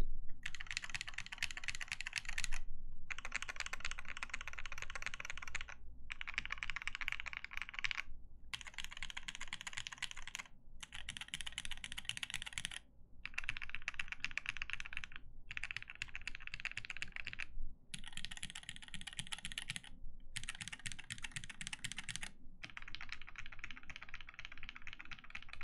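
Typing on an OTD 360C keyboard fitted with vintage Cherry MX Black switches comes in steady clattering bursts separated by short pauses, close and clear with no other sounds.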